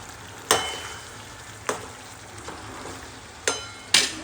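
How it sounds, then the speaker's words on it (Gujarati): Vegetable tempering in a home kitchen pan, a faint steady sizzle broken by about five sharp clicks or knocks of a utensil against the pan at irregular intervals. "શાકનો વઘાર થઈ ગયો છે."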